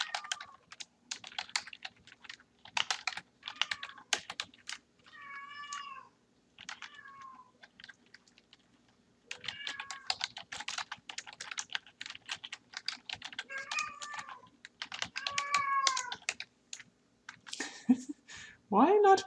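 Cat meowing repeatedly in short, clear, rising calls near a computer, mixed with steady keyboard typing clicks in a quiet room.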